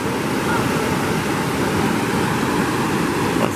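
Water flows steadily down the spillway of a reservoir dam in Jardim de Piranhas, making a constant broadband rushing roar, like surf, that stays even throughout with no pauses.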